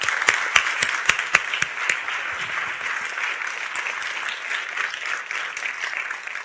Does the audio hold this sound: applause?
yes